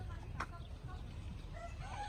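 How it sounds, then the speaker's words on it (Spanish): A rooster at a rural farm in Asturias clucks in a brief, faint burst over low background rumble, with other farm sounds nearby. "No para de cacarear."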